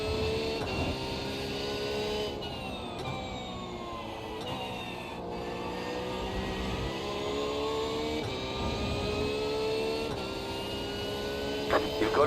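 A Porsche race car engine in a sim racing game, in an IMSA race, holding a loud, steady drone with rising and falling pitch as it shifts gears through a lap, with no talking over it.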